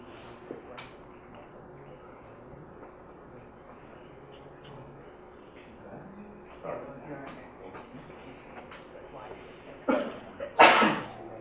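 A single sharp sneeze bursts out near the end of a quiet indoor stretch with faint background shuffling, close and loud against the low room noise.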